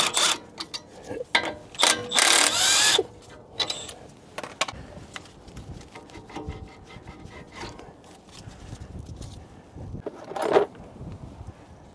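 A ratchet removes the 14 mm caliper bolts on an Acura RDX during CV axle work. It gives a close, loud, rapid clicking at first, then scattered metallic clicks and rubbing handling noises.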